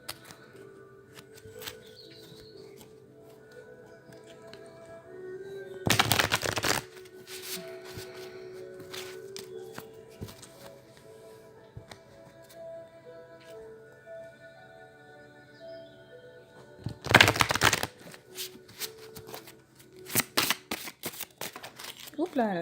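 Oracle cards being shuffled by hand in a quiet room, two dense bursts of riffling flutter standing out among faint rustles, with someone talking softly in French throughout.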